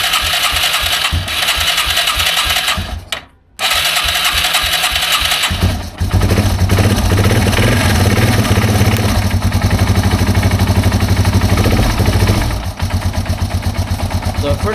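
A cold Yamaha TW200 motorcycle engine idles steadily with the choke on, a continuous close, loud putter that briefly drops out near the middle and then resumes, with voices talking over it.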